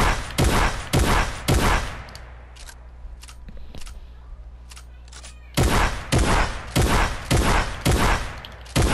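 A shotgun in a video game fires in rapid repeated blasts, loud and sharp, several shots in quick succession, then a pause filled with faint clicks and handling sounds before another burst of shots.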